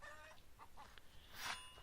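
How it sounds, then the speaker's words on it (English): Chickens clucking in the video game Edengrad, a few short soft clucks over a steady low background hum, ending in a brighter, louder squawk near the close. "It's got chickens running around."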